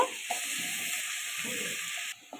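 Potatoes fry in a pan with turmeric and a little salt, giving a steady, close sizzle that runs without a break. A few soft clinks and stirring sounds rise over it.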